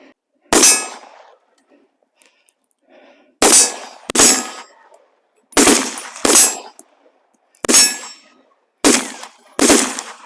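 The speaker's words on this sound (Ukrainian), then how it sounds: "Ми вже зараз стріляємо з 20 метрів, зараз будемо з 15 метрів в неї стріляти." Rifle rounds of 7.62 calibre strike a Russian bulletproof armor plate from close range, each impact a sharp, loud metallic clang. Seven hits come singly or in quick pairs, with short silences between them.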